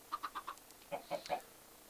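A Minecraft chicken clucks in short, evenly spaced calls, four quick ones and then three more after a brief pause, clear and alone.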